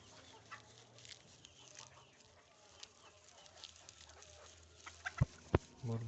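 Fayoumi chickens on a farm cluck softly against a steady background hum, with a few louder, sharper clucks near the end.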